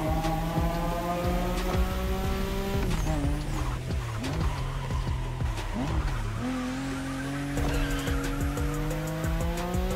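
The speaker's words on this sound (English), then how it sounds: "Don't you forget, it's all about drifting." Tires squeal and skid as a Nissan Skyline GT-R drifts in The Crew Motorfest racing game, loud engine whine rising and falling with long screeching slides and gear shifts.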